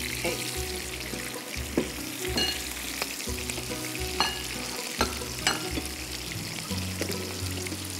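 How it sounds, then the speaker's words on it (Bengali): Hilsa fish frying in oil in a pan, a steady close sizzle with occasional stirring clicks and scrapes throughout, no talk. "এটা একটু খুব ভালো করে ভাজতে হবে, হালকা করে, মানে অত বেশি ভাজে না, হালকা বাদামি করে ভেজে নিতে হবে"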